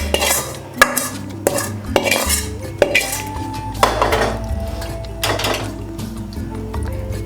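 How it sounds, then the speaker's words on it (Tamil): Egg mixture with sautéed onion beaten in a bowl for an omelette, with quick irregular clinks and scrapes of utensil against dish, close and moderately loud. "இது போட்டுட்டுங்க நல்லா அடிச்சு விட்ருவோம்."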